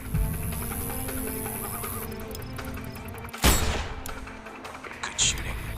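A sniper rifle fires once in Sniper: Ghost Warrior 2, a loud, sharp crack midway that rings briefly over a bed of game ambience and soft background noise.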